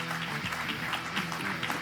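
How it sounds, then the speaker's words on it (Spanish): Audience applause at an agricultural soybean event presentation, a steady wash of many hands clapping with some tonal background hum, moderately loud and continuous throughout. "Muy bienvenidos, un fuerte aplauso,"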